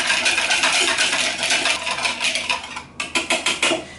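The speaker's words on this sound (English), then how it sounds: "Go ahead and whisk those up." A whisk clatters briskly against a bowl as a thyme, black pepper and salt dressing is mixed, making a fast, close metallic scraping that turns into sharper rhythmic strokes near the end.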